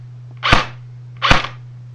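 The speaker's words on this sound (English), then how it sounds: "here is the MP5 without the suppressor" A JG MP5 airsoft gun fires without a suppressor. Two sharp, close pops land about a second apart over a steady low hum.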